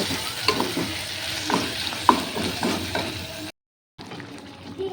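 Meat with tomato sautéing in a wok gives a close, bright sizzle with repeated scraping and stirring strokes of a spatula, then a brief silence near the end before the frying resumes.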